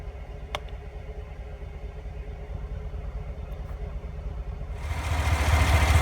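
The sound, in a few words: truck engine idling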